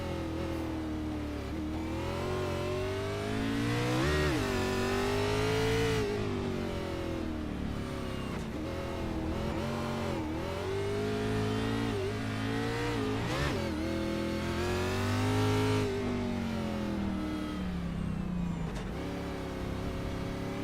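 Sim race cars lapping the Circuit of the Americas in a racing league, engines revving loudly and continuously with rising and falling pitch as they accelerate and shift, layered cars close together throughout.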